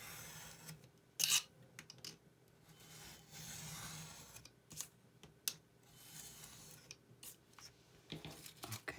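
Paper is cut along a line for a handmade Christmas folder, quiet intermittent rasping snips and rubbing scrapes with a sharper burst near the start, close and soft with no talk.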